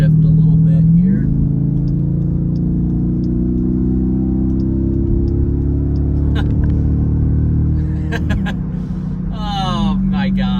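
Jeep SRT engine rises in a loud, continuous rev as the driver downshifts, a steady low rumble swelling through the middle of the stretch before settling back, heard from inside the cabin.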